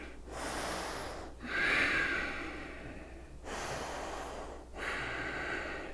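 Deep yoga breathing, with slow, loud, airy inhales and exhales close to the mic in about four long breaths, with short pauses between them.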